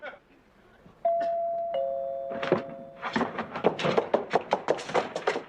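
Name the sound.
doorbell ringing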